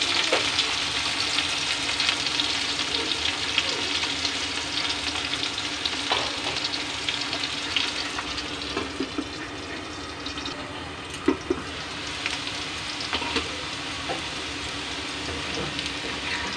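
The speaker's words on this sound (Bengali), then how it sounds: "লাল লাল করে ভেজে নেবো একটু।" Ingredients frying in oil until reddish-brown for a vegetarian dish, a steady close crackling sizzle with occasional stirring scrapes and pops, no voices.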